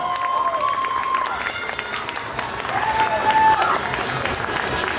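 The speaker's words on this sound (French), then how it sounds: "On les applaudit très très fort" A crowd at a cosplay contest at a game show in Yvetot claps and cheers as contestants walk a red carpet, dense applause under a few faint voices and brief tones.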